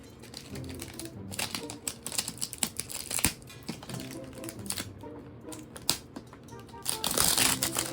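Unwrapping a FNAF Freddy mystery head: crinkly wrapping and packing material rustles and crackles in irregular bursts, close to the microphone, with a few sharper tears near the end and occasional speech.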